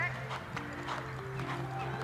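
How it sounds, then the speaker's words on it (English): A horse canters past nearby outdoors, its rapid hoofbeats thudding in an uneven rhythm beneath a steady low hum, with speech present alongside. "the third horse I'm going to ride is currently cantering past us"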